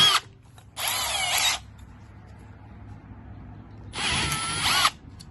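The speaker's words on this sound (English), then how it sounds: "finish drilling it out." A power drill drills out a hole through plastic for a radio dash mount in a Toyota Tundra or Sequoia, two loud close bursts of whining drilling separated by quiet gaps.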